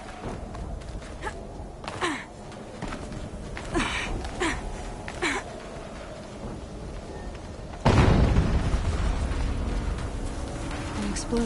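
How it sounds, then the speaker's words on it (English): An explosion in a video game bursts in loudly near the end as a broad, rumbling blast that lingers, following quieter game noise with a few sharp transients. "An explosion."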